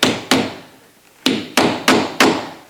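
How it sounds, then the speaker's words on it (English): Hammer toenailing a nail at an angle into old wooden cabin roof timber, six loud sharp blows, two spaced early then four in a quick even run, close and alone. "Then I take and nail it. Toenail it in"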